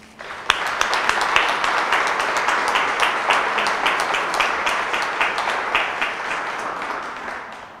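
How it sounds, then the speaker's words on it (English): Sustained applause from an audience at a women of distinction awards ceremony, steady and full for several seconds with a sharp clap at the start, slowly fading toward the end. "Please give applause for Denise Simmons."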